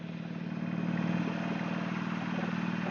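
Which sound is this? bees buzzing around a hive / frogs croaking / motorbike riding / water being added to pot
motorbike riding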